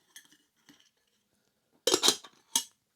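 Metal parts of an X-boil ultralight camping stove and pot being fitted back together, light scattered clinks early, then a cluster of louder close metallic clatters and a final clink.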